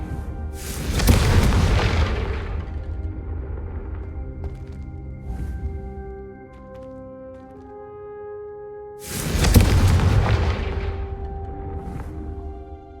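The Confringo blasting spell fires in Hogwarts Legacy. Two loud, booming explosions about eight seconds apart each burst and then roll away, with ringing magical tones sustained between them.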